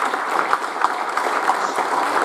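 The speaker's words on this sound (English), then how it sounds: "But that deserves an applause that you found the zero." An audience at a security conference talk breaks into steady, even applause from a full room, a continuous patter of clapping without pauses.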